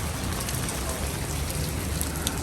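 Heavy rain pours steadily outside a GameStop store, a dense, even hiss of drops pattering on hard surfaces, close and unbroken throughout with no voices.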